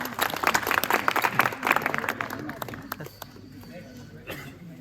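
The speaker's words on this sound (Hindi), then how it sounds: "एक बार जोरदार तालियों के साथ स्वागत करें" Welcoming applause from a student organisation rally crowd at Adam Field, dense clapping that builds loudly, then thins and fades under an emerging voice.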